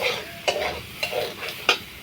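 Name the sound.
stirring and sautéing mango for spiced chutney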